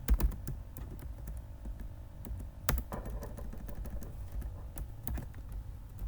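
Keys clatter on a computer keyboard as code is typed, a steady run of close clicks with a few heavier keystrokes, and no voices.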